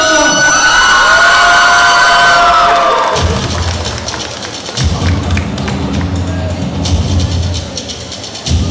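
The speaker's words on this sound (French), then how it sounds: "On l'applaudit très fort." Applause and cheering from a Festimanga contest crowd rise after an amplified announcement fades, with loud clapping, whoops and thumps filling the hall.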